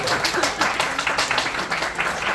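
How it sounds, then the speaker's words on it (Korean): Steady applause from an audience at a youth group's Christmas evening church gathering, a dense, even patter of many hands clapping close by for the whole stretch. "준비해주신 노엘 참모팀에게 다시 한번 감사의 박수 보내주세요."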